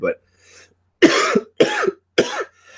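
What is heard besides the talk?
person coughing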